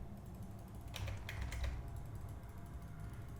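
Soft computer mouse clicks while exploring a point-and-click video game, a quiet cluster of several quick clicks in the middle of a low background hum.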